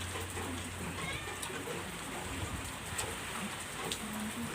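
Steady rain hisses continuously, with occasional sharper drops and a faint low rumble in the background.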